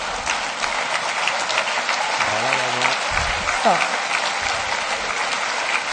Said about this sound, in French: Genre, plus de 3 personnes qui applaudissent.